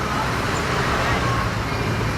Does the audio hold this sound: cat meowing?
no